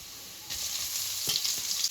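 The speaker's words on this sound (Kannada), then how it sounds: "ಇವಾಗ ಈರುಳ್ಳಿ ಹಾಕ್ತಾ ಇದ್ದೀನಿ" Onions tipped into hot oil with hing, curry leaves, green chilli and garlic for restaurant-style dal tadka set off a sudden loud sizzle that keeps crackling with a few stirring knocks, no voices.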